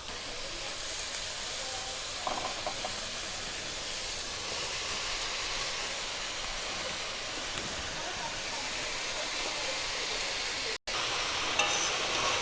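Spinach goes into a hot pan of softened winter vegetables and eggplant for khichuri. A steady, faint hiss and sizzle continues throughout, with a brief clatter near the start.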